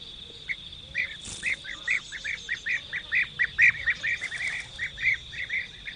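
European bee-eaters call in a rapid series of short, bright, liquid notes repeated about every third of a second, clear and fairly close over a faint steady insect-like hiss.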